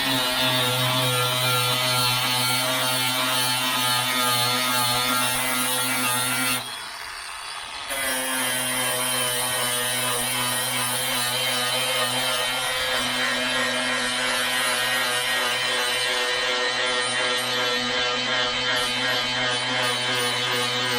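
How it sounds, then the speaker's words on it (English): An angle grinder with a grinding disc working on the body of a 1977 Camaro, a steady loud whine that runs almost unbroken, dropping briefly about a third of the way through before resuming. "I put that grinding disc on there. You can see it, to see how it grinds."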